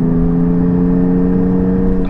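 Porsche GT4 exhaust with the valves held open, a steady loud droning howl with strong tonal harmonics, held at constant revs close to the car.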